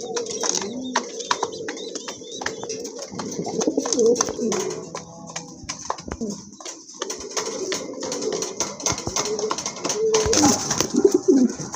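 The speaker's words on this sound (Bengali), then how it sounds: "খুবই চমৎকার এক জোড়া কবুতর, অনেক বড় সাইজের এক জোড়া বড় পায়রা" A pair of large black and white pigeons coo in repeated throaty, rolling calls up close, with a few sharp clicks and chirps, while voices talk intermittently over them.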